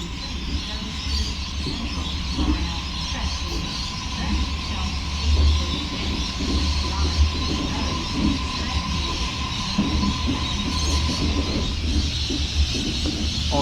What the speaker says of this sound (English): A66 departing Epping for City Terminal.